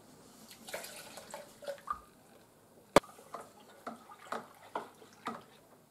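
250 ml of hot water is poured while mixing a home-brew beer kit, trickling and splashing in short bursts, with drips and a sharp clink partway through, quiet and close, with no voices.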